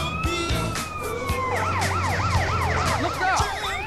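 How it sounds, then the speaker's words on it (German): An ambulance siren in GTA San Andreas wails in rising and falling sweeps over steady traffic noise, starting mid-clip and staying fairly prominent. "Jetzt kommt noch der Krankenwagen."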